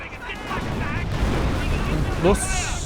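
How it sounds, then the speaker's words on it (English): Artillery shells from Company of Heroes 1 strike a Pioneers squad in a Wehrmacht versus British match, making a sustained rumbling barrage with heavier booms. Someone commentator talks over it throughout. "That looks like officer artillery."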